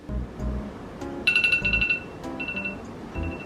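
A phone timer alarm rings out in a kitchen, a bright repeating electronic beep pattern in short pulses, clear and close over low background noise.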